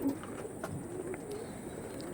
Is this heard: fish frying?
no